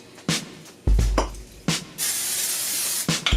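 A long, loud hiss of aerosol cooking spray runs for over a second, close up, after a few kitchen clanks and taps, before an egg is cooked.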